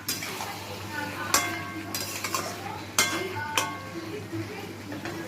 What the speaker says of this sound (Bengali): ঢাকনা খুলে আবার একটু হালকা করে নেড়ে নেব।